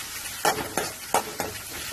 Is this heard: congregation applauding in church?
no